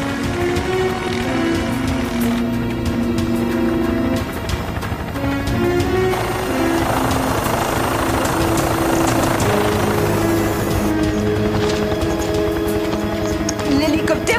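A helicopter at an offshore platform gives off a steady, loud rotor and engine roar that runs continuously, with rushing, rain-like noise and tonal whine, and voices may be heard over it.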